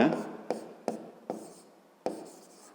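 Pen or pencil writing on paper while working through a fifth-grade geometry exercise: scratchy strokes broken by several sharp taps, close and fairly quiet.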